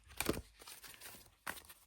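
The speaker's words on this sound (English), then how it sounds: "Right, okay, overhand shuffle then." Large oracle cards from The Body Cards deck being shuffled overhand, heard as two short papery riffling bursts close by, separated by a quiet pause, with no talking.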